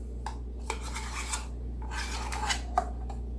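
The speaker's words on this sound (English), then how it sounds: "So I'm just gonna mix this brown goodness." Walnut cookie dough being stirred in a bowl, with repeated scraping and rubbing strokes and a few light clinks of a utensil against the bowl, close and fairly quiet over a low hum.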